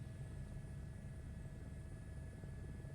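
Helicopter in the flight simulator game Microsoft Flight Simulator 2024, a faint, continuous low rotor and engine drone with a steady thrumming rumble and no talk.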